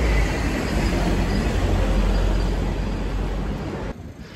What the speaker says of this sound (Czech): Tady přede mnou je vlakáč teďka